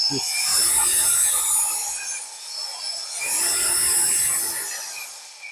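A DELIXI cordless angle grinder spins in two sustained high-pitched bursts, each swelling and fading, with a short lull between them and no voices.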